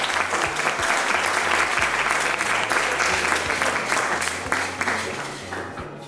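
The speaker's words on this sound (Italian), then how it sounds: "Facciamoci un bel applauso, dai!" An audience at a cooking contest claps loudly and continuously, a dense wash of many hands applauding without pause.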